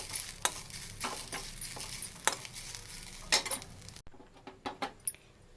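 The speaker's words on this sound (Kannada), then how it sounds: "ಹುಣಸೆ ಚಿಗುರು ಎಣ್ಣೆ ಹಾಕಿ ಹುರ್ಕೋತಾ ಇದ್ದೀನಿ." Tamarind shoots frying in a little oil give a close, steady sizzle, stirred with a spatula that scrapes and clinks against the pan at irregular moments, with no one talking.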